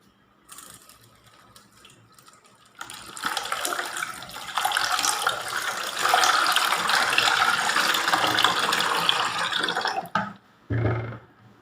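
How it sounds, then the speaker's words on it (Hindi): Water poured into a cooking pot on a gas stove while making veg Manchow soup with soup powder and noodles, a steady splashing stream lasting several seconds, close and fairly loud, then a short final splash. "अब हम इसमें पानी डालेंगे।"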